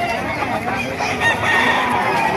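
Chickens cluck and a rooster crows at a poultry market in the Calumpit tiangge, fairly loud and close, with overlapping bird calls over a faint background crowd.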